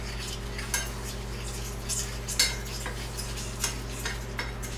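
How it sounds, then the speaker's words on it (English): A utensil scrapes and taps against a pan while flour is worked into melted butter, soft irregular clinks over a low, steady hum and faint sizzle, close and without talk. "I want to get all that flour mixed in so there's no more flour showing"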